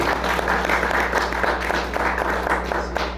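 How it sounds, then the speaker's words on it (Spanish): An audience claps steadily, a dense patter of many hands filling the room with a low hum beneath, continuing evenly throughout. "vamos a darle un fuerte aplauso también por la colaboración"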